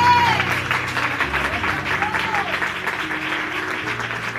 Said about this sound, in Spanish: Den un fuerte aplauso para el Señor.